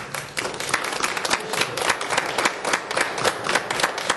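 A room full of people clapping steadily at a village committee meeting, dense and continuous applause with no voices over it.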